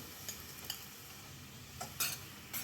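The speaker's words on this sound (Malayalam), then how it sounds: "ഇവിടെ മുട്ട ഒഴിച്ചു കൊടുക്കുകയാണ്" Eggs poured into a pan of frying onions and green chillies make a faint, continuous sizzle dotted with a few light utensil clicks.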